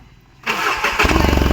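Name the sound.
vehicle engine starting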